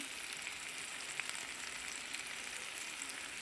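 Hot oil in a pan sizzles steadily with turmeric and salt added, a dense, crackling hiss with small pops, constant and close.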